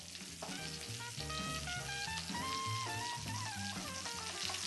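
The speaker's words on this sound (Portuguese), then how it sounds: "Vou misturar agora a mistura de 5 especiarias com o mel" Five-spice mix and honey are stirred into a thick paste in a kitchen, with a steady wet sizzling, frying-like sound running throughout beneath faint clinks.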